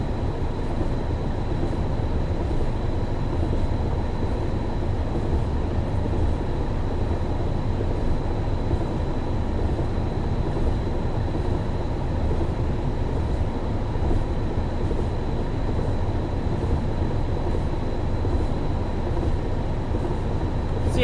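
Ballast tamper train, unit 73106 by Gold Star Trains, running in Train Sim 2021 on the Chat Moss route: a steady, continuous rumble of engine and rail noise with a constant high whine, unbroken throughout, with no talk.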